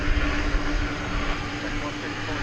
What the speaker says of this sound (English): finally a 20th century 777-200ER